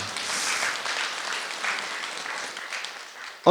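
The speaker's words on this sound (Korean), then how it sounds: "박수." Applause from a temple congregation during a Buddhist meditation lecture, a steady diffuse patter of many hands lasting a few seconds, then a brief louder sound at the end.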